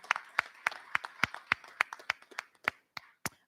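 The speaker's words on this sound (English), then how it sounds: "Please give them a round of applause, because they all work so hard." A few people at a town hall clap, roughly a dozen distinct, evenly spaced claps that thin out toward the end, close and without voices.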